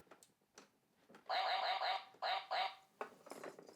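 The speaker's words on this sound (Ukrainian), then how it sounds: "Качка." A toy or recorded duck gives a series of quick, rhythmic quacks in two clusters. They are loud and close against a quiet background, with a few faint softer noises in between.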